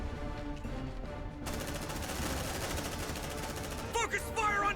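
Squad gunfire in the video game Aliens: Dark Descent, a dense rapid burst of automatic shots starting abruptly and continuing steadily, fairly quiet under game music, with a short voice line near the end.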